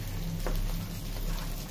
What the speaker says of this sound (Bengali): এই যে মাছ ফ্রাই হচ্ছে